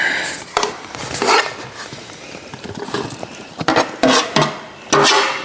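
Raw shrimp tossed into a pot of Cajun jambalaya with pork, giving a handful of close, wet scraping and clattering bursts from a spoon against the pot, spaced with quieter gaps and a cluster of strokes near the end.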